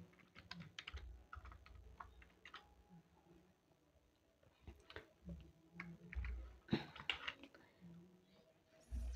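A computer keyboard being typed on while entering an Excel formula, with soft, quick key clicks in short bursts, fairly quiet, alongside a little low background noise.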